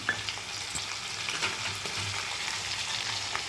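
Ivy gourd and tomato pieces fry in oil in a pan, making a steady, moderately quiet sizzle with faint scraping stirs and occasional small pops, and nobody speaks.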